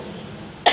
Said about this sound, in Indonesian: saya memang agak batuk-batuk